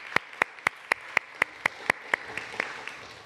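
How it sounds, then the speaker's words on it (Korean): People at a Sunday church service clap together in a quick, even rhythm, about nine sharp unison claps spaced a quarter-second apart, before the beat loosens into softer scattered clapping that fades out. "우리 수고한 모든 분들에게 한번 박수로"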